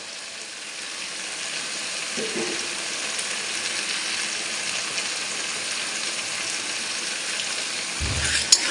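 Spice masala sizzles steadily in a hot pan while being stirred, a soft continuous frying hiss with a few scrapes of the spoon and a brief clunk near the end.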